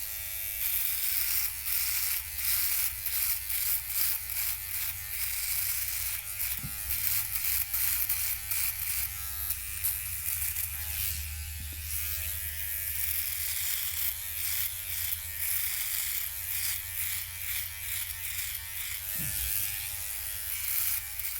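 A Philips OneBlade electric shaver buzzes steadily while shaving coarse neck stubble, a close, continuous high buzz with rapid pulsing strokes and occasional thumps as it passes over the skin.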